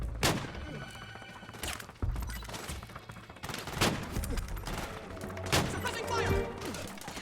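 Soldiers in Metal Gear Solid 4 fire their weapons in bursts of sharp, fairly distant gunshots, mixed with game sounds and occasional shouted voices.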